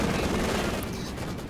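Machine gun fire in a World War II strategy video game match, a dense, loud rattle of rapid shots filling a short moment with battle noise, under faint commentary.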